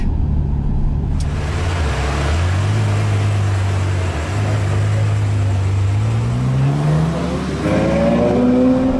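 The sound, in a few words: Ferrari 812 Superfast V12 engine driving on Fiorano track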